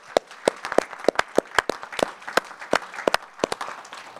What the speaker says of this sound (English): a huge round of applause for all of our patient speakers today